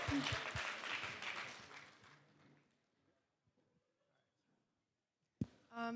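Audience applause at a wedding reception, a loud broadband wash of many clapping hands that fades away into near silence before a voice begins speaking.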